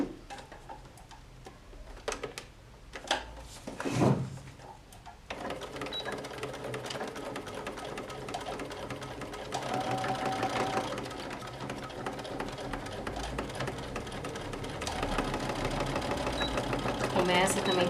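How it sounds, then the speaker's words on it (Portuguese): A sewing machine stitches a toiletry box with a handle, running in steady mechanical bursts that start and stop, with a voice speaking over it at points. "e vamos à costura."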